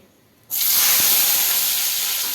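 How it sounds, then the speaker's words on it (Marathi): A sudden loud hiss bursts in after half a second and holds steady, a strong close sizzle of potatoes frying in hot oil. "मी आता ह्याच्यात बटाटे थोडे तळून घेते"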